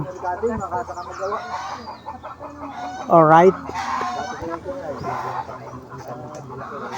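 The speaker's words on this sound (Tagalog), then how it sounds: "Ang daming manok dito." Chickens cluck and squawk nearby, with one loud rooster-like call in the middle, while someone speaks briefly over the flock.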